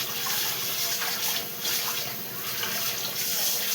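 Food is washed under running tap water, a steady close splashing gush that lasts a few seconds with no voices.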